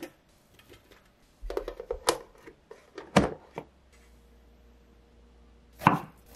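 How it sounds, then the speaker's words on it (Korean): A head of broccoli is cut into small florets on a board, with a handful of sharp, irregular knife chops and taps separated by quiet pauses, close and clear. "브로콜리 한 송이는 작은 송이로 자르세요. 줄기 부분도 먹기 좋게 자르시고요."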